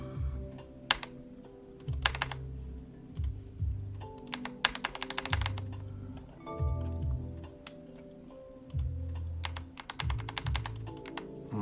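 Bursts of keystrokes clatter on a computer keyboard at a trading desk, fast uneven runs of clicks separated by short pauses with a low hum underneath, close and fairly loud throughout.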